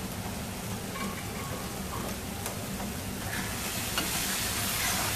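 Rajma masala cooks in oil in a covered pan, giving a steady, soft sizzle and bubbling hiss with faint ticks, continuous and fairly quiet throughout with no voices.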